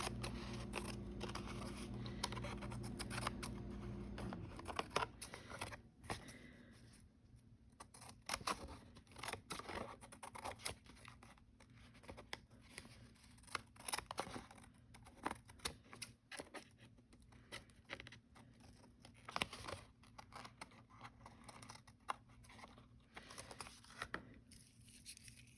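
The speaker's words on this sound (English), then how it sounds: "I'm going to cut around the edges" Scissors snip repeatedly around the edges of a paper journal card to trim off excess paper, giving quiet close crisp cuts in an uneven rhythm that runs steadily over a faint room hum.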